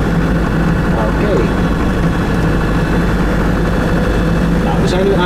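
An aircraft engine idles at the start of a runway, a loud and steady low drone with a faint whine that holds constant throughout, heard from inside the cabin with no voices.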